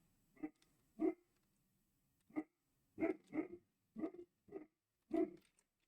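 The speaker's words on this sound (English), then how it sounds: "I'm so not used to a dog barking, by the way" A dog barks repeatedly at someone out front, about eight loud, sharp barks spaced irregularly with short gaps between them, heard indoors with no talking over them.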